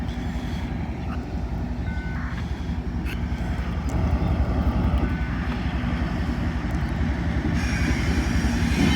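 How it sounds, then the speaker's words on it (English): A CSX intermodal freight train rolls past at a steady rumble in Fostoria, wheels clattering and squealing faintly, the noise swelling slightly as the cars keep coming. "First train here. CSX Intermodal."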